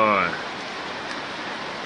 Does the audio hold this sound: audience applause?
no